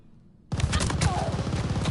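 A sudden loud burst of gunfire erupts after a half-second of near silence in the shooter game Vanguard, a sniper rifle in play, with rapid repeated cracks filling the rest of the moment and a voice faintly underneath.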